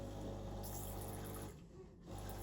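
A Breville Oracle Jet BES985BTR espresso machine purges water through its group head, giving a steady pump hum and water rush that dips briefly before resuming, close and fairly quiet.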